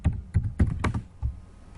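Keys clack on a computer keyboard while code is typed, a burst of about six crisp taps at an uneven rhythm over roughly two seconds, close and fairly quiet with no voice.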